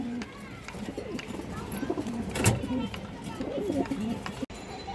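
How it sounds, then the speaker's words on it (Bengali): Pigeons cooing, apparently a pair of fancy throated (khora-gola) pigeons kept by a breeder, with soft repeated coos and bird calls under someone speaking steadily nearby. "এই দেখেন দর্শক কৌতরটা মাসাল্লাহ খুবই সুন্দর একটা কৌতর"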